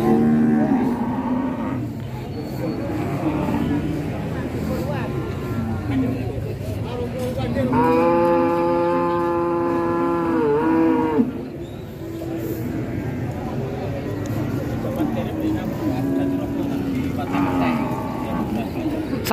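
A Limousin breeding cow at a cattle market gives one long, drawn-out moo, loud and close, while people talk nearby and the market murmurs on before and after.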